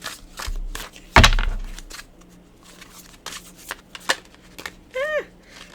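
A large deck of small oracle cards being shuffled by hand: quick riffling flutters and papery slaps come in uneven bursts, close and fairly loud, with a brief vocal sound near the end.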